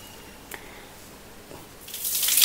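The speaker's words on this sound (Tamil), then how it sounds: "கையை கழுவி காமிக்கிறேன் பாருங்கள்." Hands stained with hair dye are washed under a running tap. After a quiet stretch with a couple of faint taps, the water gushes on loudly near the end, splashing close by.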